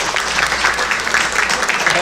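An audience at a fan convention's opening ceremony breaks into a short stretch of loud, busy clapping, with voices mixed in underneath.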